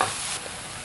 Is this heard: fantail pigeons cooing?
no